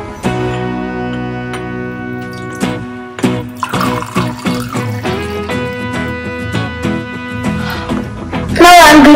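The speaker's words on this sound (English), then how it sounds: "Now let's pour this water in the cup." Water pours into a cup in a few short runs of splashing and trickling, close and fairly loud, with a brief higher gurgle at the end.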